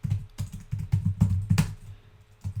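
Keys clatter on a computer keyboard in quick, uneven bursts of close taps while text is entered into R code, with a short pause before the typing resumes.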